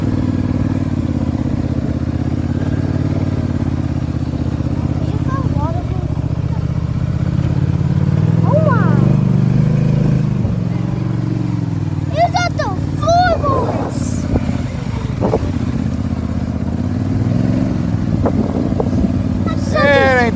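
A Polaris Sportsman 850 ATV churns through a mud hole, its engine droning and swelling steadily under continuous talk, with splashing and clatter mixed in.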